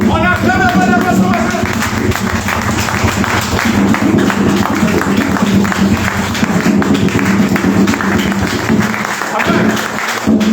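A church congregation at a Sunday worship service applauds and cheers in acclamation, producing steady, loud, sustained clapping with crowd voices mixed in throughout, while a voice speaks over the top.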